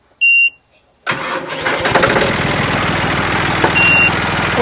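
A 17-year-old John Deere 5310 tractor's engine cranks and catches, then runs steadily and loud up close, with a short high beep just before starting and another later on; no one speaks.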